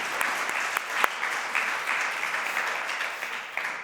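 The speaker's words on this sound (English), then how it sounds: "Round of applause." Applause from the audience at a joint final conference session, an even, moderately quiet wash of many hands clapping in a hall, sustained throughout with a few louder individual claps.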